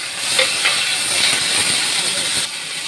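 Cauliflower florets rubbed with salt and turmeric, then potatoes, frying in hot oil in a Kolkata home kitchen, giving a loud, continuous hissing sizzle close by that drops slightly near the end.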